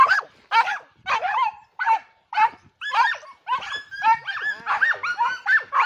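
A small dog barks in quick, loud bursts close by, about a dozen sharp barks and yips spread evenly over several seconds, with no talking.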